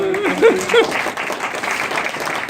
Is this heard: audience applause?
yes